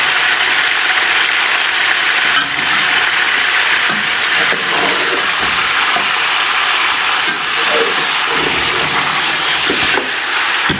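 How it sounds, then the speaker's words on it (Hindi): Meat sizzles and fries in a clay pot for matka beef nihari, a steady loud hiss with bubbling and occasional crackles throughout, no voices. "तो सारे गोश्त को हम फ्राई करेंगे। हल्का फ्राई हो रहा है।"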